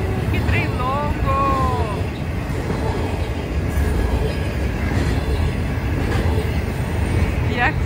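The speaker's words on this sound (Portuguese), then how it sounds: "Que trem longo." A long train rumbles past steadily near Route 66 by the Grand Canyon, with continuous heavy rolling noise and occasional wheel squeals while people talk.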